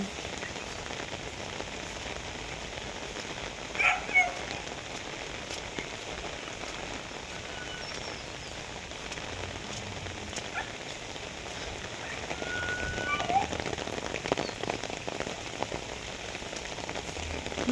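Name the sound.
heavy rain falling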